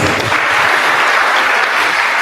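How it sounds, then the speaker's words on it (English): Audience applause at a business workshop in Gugulethu, a steady dense wash of many hands clapping together, continuous and fairly loud throughout with no talk over it. "Let's give her a round of applause."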